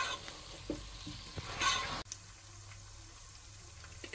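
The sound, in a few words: frying tomatoes and green chillies with spices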